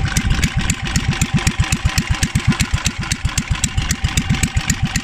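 A newer-generation L480 petrol engine with electronic ignition, fitted to a four-wheel BCS hay mower, running steadily at idle with a fast, even, loud chugging pulse close by, with no talking.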